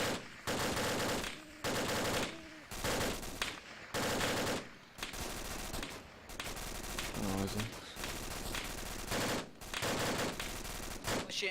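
Gunfire in the military video game Arma 2, bursts of automatic rifle and machine-gun fire broken by short gaps, with voices talking underneath.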